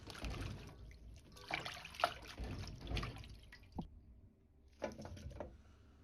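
Water splashes and drips as flowering choy sum stems are rinsed and drained, a quiet, close, irregular trickle with a few brief louder spatters.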